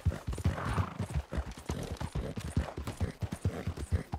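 Horse hooves clip-clop in a quick, steady rhythm in the video game Red Dead Redemption 2, close and continuous throughout with no talk over them.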